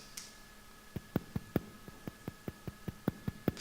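A steady theta brainwave tone: soft, evenly spaced pulses, roughly five or six per second, over a faint continuous hum and a thin high tone.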